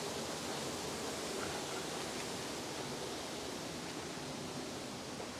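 The old river beside an integrated fish farm rushes in a dense, steady wash of flowing water, continuous and fairly even throughout with no voices.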